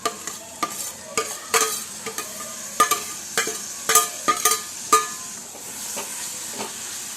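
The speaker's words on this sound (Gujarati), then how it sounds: "હવે એને આપણે ટામેટાં નાખી દઈશું" A spoon scrapes and clacks repeatedly around a pan as tomatoes go into sautéed onions for Rajasthani dal baati, sharp stirring knocks in an irregular rhythm over a soft steady sizzle, no talking.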